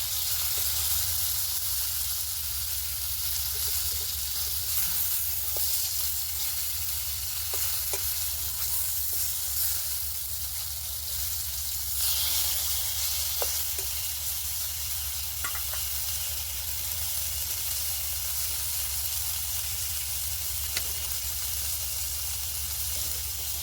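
Singi fish sizzles steadily in a little oil with turmeric and salt, a loud, continuous, close frying hiss that lasts throughout with no pauses.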